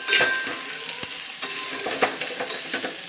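Masala with coriander powder for drumstick curry sautéed in a pan, close sizzling with stirring scrapes and occasional spoon taps, steady and alone.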